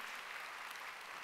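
Steady applause from a church congregation during a Wednesday worship service, dense and even throughout with no pauses.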